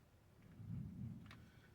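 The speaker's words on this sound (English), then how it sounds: "Is that Thunder?" Distant thunder outside a shop on a hot day, a low, faint rumble that swells and fades over a quiet background.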